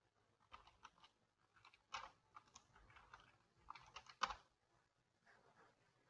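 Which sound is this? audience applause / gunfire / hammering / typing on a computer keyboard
typing on a computer keyboard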